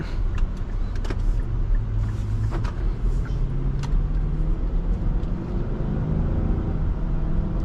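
A 2023 Infiniti QX80 Premium Select is driven on the road, and its engine gives a low, steady rumble with some cabin noise and a few faint clicks.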